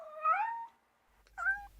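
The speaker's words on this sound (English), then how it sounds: "here's audio of a cat meowing" A cat meows twice, a drawn-out meow followed after a short pause by a shorter one, clear and close against a quiet background.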